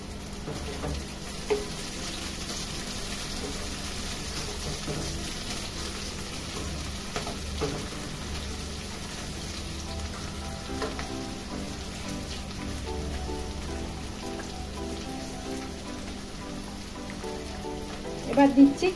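Beans stir-fry in a pan for egg chowmein, a continuous close sizzle with scraping stirs and a few louder clatters near the end; no talking.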